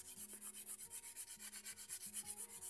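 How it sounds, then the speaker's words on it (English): A nail file rubs back and forth across a hard gel nail in quick even strokes, about a dozen rhythmic scratchy passes heard close and alone. "I'm using this hand to rub across the file"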